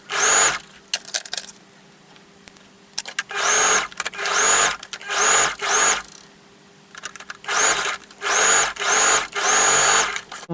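A sewing machine runs in repeated stitching bursts, close and loud, stopping and starting in short runs as a collar is attached to the neck of a bodice on a dress refashioned from a skirt.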